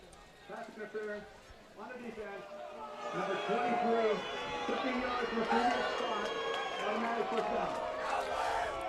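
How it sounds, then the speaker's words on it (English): A home crowd at a college football game reacts to a pass interference call with a rising roar of jeers, loud and sustained, under a commentator's voice. "the home crowd doesn't like that call at all"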